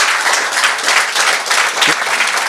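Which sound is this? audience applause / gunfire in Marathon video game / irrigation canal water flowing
audience applause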